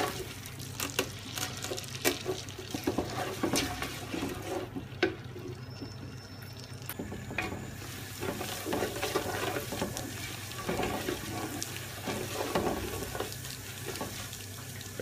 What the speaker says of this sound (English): once your butter is starting to froth up like that